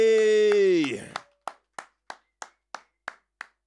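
A single pair of hands claps slowly and evenly, about nine sharp claps, after a held tonal sound fades out, welcoming an artist onto a UK rap panel stage.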